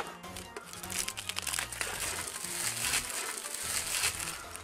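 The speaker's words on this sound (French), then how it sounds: "je vais vous enlever le plastique en attendant" Plastic wrapping crinkling and crackling as it is pulled off Pokémon cards, a busy series of close, sharp rustles with no talking.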